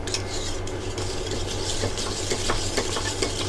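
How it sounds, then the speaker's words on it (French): Crème fraîche whisked by hand with a balloon whisk for a cheesecake, giving a close, steady wet stirring and scraping against the bowl with light repeated clicks, no voices. "je fais juste avec le fouet"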